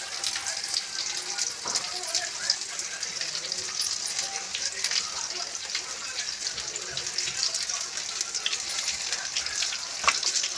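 Fish pieces frying in a plate-shaped pan of oil, a dense continuous bright sizzle with crackling spits, steady and close throughout.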